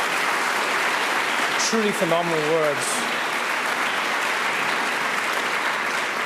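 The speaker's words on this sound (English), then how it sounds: "let's give them all a round of applause to all of our speakers" A crowd at a HeForShe second-anniversary event gives the speakers sustained, dense applause, a loud continuous roar of clapping while a voice briefly speaks over it.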